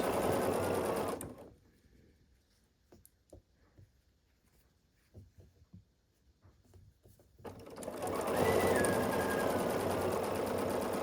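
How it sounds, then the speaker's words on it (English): Sewing machine stitching 2.5 inch quilt squares together along the edge for a Christmas stocking: a steady close whir, a pause with soft clicks and fabric handling, then the motor whirs again. "I'm going to match up my squares here and just sew along the edge."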